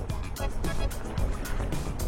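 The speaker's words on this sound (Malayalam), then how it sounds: "അങ്ങനെ എനിക്ക് യാത്ര ചെയ്യാനുള്ള ബോട്ട് എത്തിത്തുടങ്ങി" Boat drawing up to the pier on a Scottish loch, with water sloshing and lapping in quick, uneven splashes close by over a low rumble.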